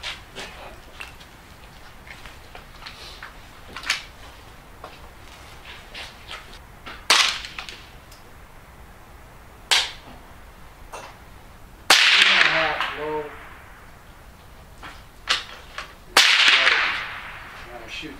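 Sharp single shots from a Ruger 10/22 rifle fired outdoors, a handful of spaced cracks with two louder, ringing reports near the end, over quiet background hiss.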